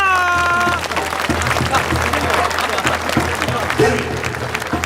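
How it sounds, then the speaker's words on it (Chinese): A crowd at a staged tournament ceremony breaks into sustained applause, a dense patter of clapping that continues evenly while an announcer's voice speaks at the start. "掌声再次鼓励一下"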